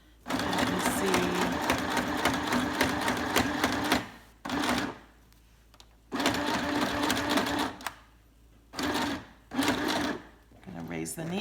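A We R Memory Keepers Stitch Happy sewing machine stitches through paper, whirring loudly and close: one long run of rapid stitching, then several shorter stop-start bursts separated by quiet pauses.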